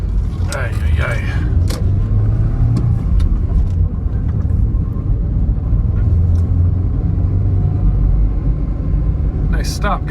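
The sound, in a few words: car driving through town streets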